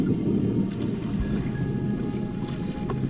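Steady low rumble of a sightseeing boat's engine over the sea off Ngapali, with wind noise across the microphone and no voices.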